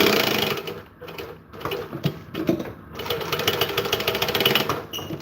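A sewing machine stitches fabric with a continuous rapid mechanical whirring and clatter, dipping briefly a couple of times, loud and close throughout.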